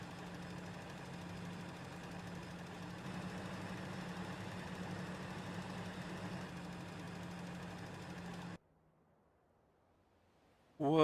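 Tractor engine in Farming Simulator 2013, a steady mid-pitched idle drone with a constant low hum that runs for about eight seconds, then cuts out abruptly to near silence before a brief loud return at the very end.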